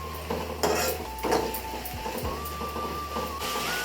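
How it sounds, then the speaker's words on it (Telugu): A spoon stirring spices into Telangana chicken curry in a pot, with metal clinks and scrapes against the pot over a light sizzle and a steady background hum. "కలిపేస్తున్నాను."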